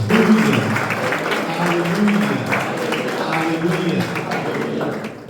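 A congregation claps hands together at a youth retreat, a sustained dense patter of clapping while a voice speaks or prays over it, fading slightly at the end.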